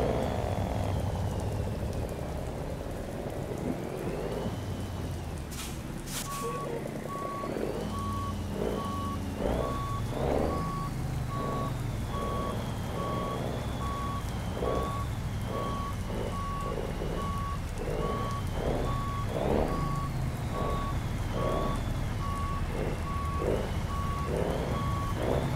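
A truck reverses in the American Truck Simulator game, its backup alarm beeping in a steady, evenly spaced rhythm that runs almost continuously over a constant hiss of engine and road noise.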